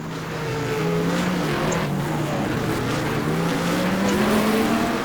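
Viper race cars roar continuously at Zandvoort in a racing game, engines loud and close with rising and falling pitch as they race, and no talking.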